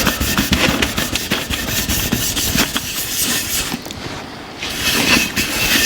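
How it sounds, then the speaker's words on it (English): Engine parts, clutch and transmission pieces, get scrubbed with paint thinner and a 3M abrasive pad, a loud, close, rhythmic rasping rub that keeps going with a brief lull partway through. "Let's clean up the parts we just took off. A little paint thinner and some 3M."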